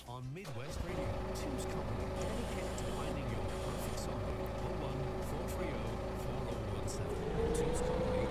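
A forklift truck's engine runs steadily at a loud, constant idle for the whole stretch, with a slight rise in pitch near the end, and a voice speaks over it.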